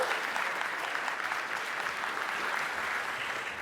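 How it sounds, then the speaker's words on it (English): An awards ceremony audience gives a full round of applause, dense and even clapping from a large crowd that holds steady at a strong level throughout. "How about another round of applause for Nikki Barney Irvine?"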